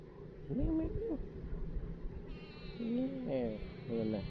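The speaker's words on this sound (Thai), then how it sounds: "แมวเพิ่นน่ะเข้ากล้องนี่" Close, repeated meows from a cat come in short bursts, one early and a few more near the end, over a low steady background.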